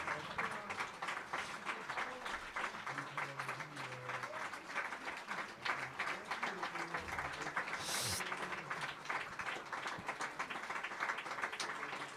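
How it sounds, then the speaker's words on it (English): An audience claps at the close of a lecture, a long, fairly quiet and distant patter of applause running throughout, with brief murmurs and a few stray sounds within it. "Now the important applause."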